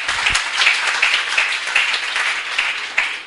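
A church congregation applauds during a sermon, dense continuous clapping from many hands filling the room, loud and even with a slight swell near the end.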